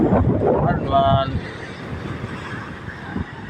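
Wind buffets the microphone with a low, rumbling roar that stays steady throughout, briefly joined by a short whistling tone early on.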